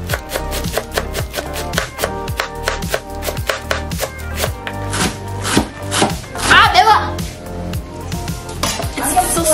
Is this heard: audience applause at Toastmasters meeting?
no